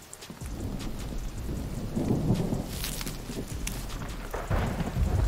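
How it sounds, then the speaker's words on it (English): Rain and thunder from the survival video game The Infected, set in a forest: a steady, dense hiss of rainfall with deep rolling thunder rumbling underneath, loud and continuous throughout with no voices. "this rain and this thunder just sounds magnificent."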